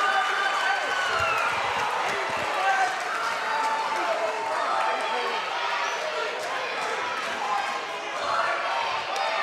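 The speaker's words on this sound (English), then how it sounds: "These crowds, the crowd is getting loud now" Crowd noise swelling at a girls' high school district championship basketball game, with sneakers running and a ball bouncing on the court beneath steady commentator talk.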